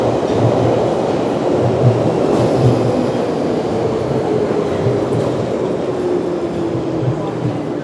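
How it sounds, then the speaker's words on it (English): A London train rumbles past close by for the full length, steady and loud with low rolling wheel noise and a faint rising whine, with some background voices mixed in. "This is the train, yeah?"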